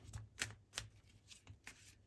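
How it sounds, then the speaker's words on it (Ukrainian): A handful of quick papery slaps and flutters, like cards dropping onto a surface, spaced irregularly over a couple of seconds against a faint low hum. "впали карти в мене"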